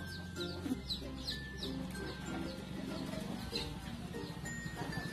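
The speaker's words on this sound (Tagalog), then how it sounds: "Ano, manok pala doon sa gilid?" Chickens cluck and murmur in the background on a rural farm, a steady chatter of fowl, with a faint voice now and then.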